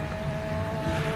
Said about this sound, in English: This car also sounds magnificent. Thunderous.